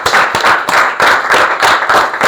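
Loud crowd clapping for Grade 8 students at a school presentation, many hands beating close and continuous, with rhythmic swells as the applause carries on.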